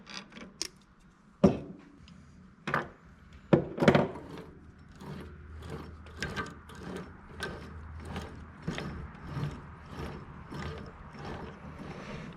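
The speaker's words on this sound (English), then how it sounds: "I'm getting ready now to tap this for a 3/8 tap" A 3/8 tap is worked by hand into a drilled hole in a machined S10 shifter shaft, giving irregular metallic clicks and ratcheting ticks at close range, some sharper and louder, with no talking.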